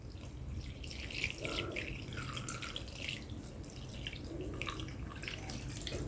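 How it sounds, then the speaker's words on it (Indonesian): Water, 500 ml, is poured from above into a non-stick pan that already holds chopped ingredients and plain wheat flour, making a steady, faint splashing and trickling that runs on without a break. "Tambahkan 500 ml air."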